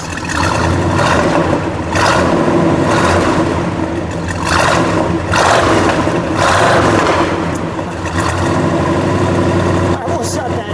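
A 1972 Buick GS Stage 1 with its 455 V8 is blipped several times over idle, each surge of revving rising and falling in loud, close bursts before settling back to a rumble.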